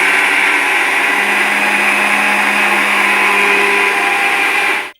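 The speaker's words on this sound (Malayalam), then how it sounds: "അപ്പോൾ പച്ചരിയെല്ലാം അരച്ചെടുത്തിട്ടുണ്ട്" A mixer grinder whirs loudly and steadily as it grinds soaked raw rice for unniyappam batter, then cuts off abruptly at the end.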